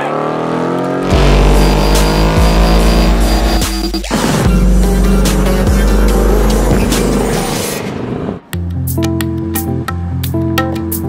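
A 2018 Ford Mustang GT roars loudly at close range through a sustained burnout, its engine droning heavily with tire hiss. Near the end the engine noise drops away and music plays.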